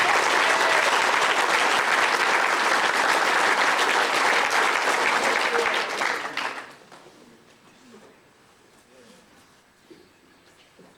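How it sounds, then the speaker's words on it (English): A banquet audience breaks into loud, dense applause for a football coach, sustained for about six seconds before dropping off to quiet room tone. "Let's give Coach Flash a big round of applause"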